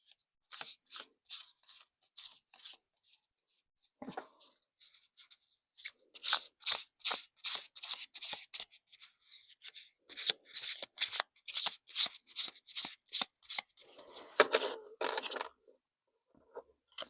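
A small tarot deck shuffled by hand in quick riffling bursts, with crisp rapid flutters of cards repeating in clusters, close and clear with short pauses between rounds.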